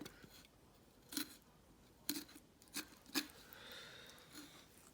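Kitchen scissors snip along the collarbone of a raw turkey, a few faint, crisp cuts spaced about a second apart against a quiet background.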